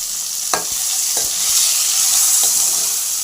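Tomatoes fry in hot oil in a pan for a brinjal chutney, giving a steady, close sizzle broken by a few sharp scrapes and clicks of a stirring spoon.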